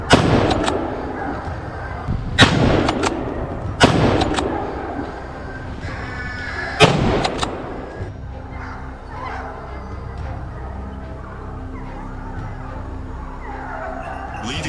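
Rifle shots ring out outdoors as hunters fire at wild boars near a wheat field. Four loud, sharp reports come in the first seven seconds, each followed by a short echo, and then a quieter stretch of ambient outdoor noise.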